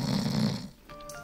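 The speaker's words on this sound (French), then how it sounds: "Il finit par en retrouver un qui ronflait sous un banc." Snoring sound effect in an animated French children's story reading, a single close, loud rumbling snore that cuts off, followed by a quieter noisy tail.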